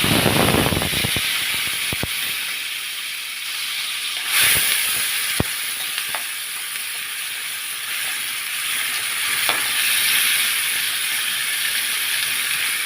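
Onions frying in a spoonful of ghee in a pan give a steady, loud, bright hiss, with a few sharp crackles and pops scattered through it and no voices over it.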